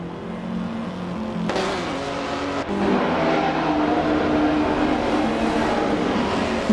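1956 Lancia D50 and other race cars in a racing video game, a steady, loud engine drone with gear shifts and rising revs as the cars drive on.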